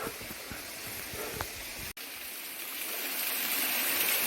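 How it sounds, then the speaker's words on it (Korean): A mountain waterfall in a valley on the Samgye-ri hiking route up Munboksan in the Yeongnam Alps rushes in a steady, dense roar close by, continuous throughout and briefly interrupted by a momentary dropout. "여기가 음박산 오르기 전에 마지막 폭포인 것 같습니다."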